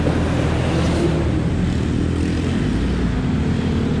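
Dense road traffic on East Service Road with many motorcycles, a loud continuous rumble of engines passing close by, with no talk.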